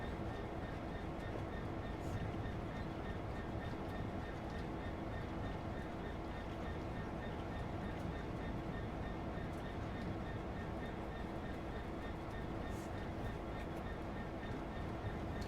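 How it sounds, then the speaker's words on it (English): A train slowing down in Train Sim World 2 on the approach to Ealing, a constant low rumble and rolling wheel noise with a faint steady hum, quiet and even throughout. "Keep the train naturally slowing down."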